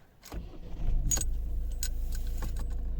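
A 2011 Volvo V50 with a 1.6 D2 HDi diesel engine cranks and fires after a jingle of keys, then settles into a steady, close diesel idle.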